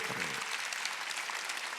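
Brief congregational applause during a Sunday church service at Jesus Center Church, a soft, dense wash of clapping with a short trace of voice at the start.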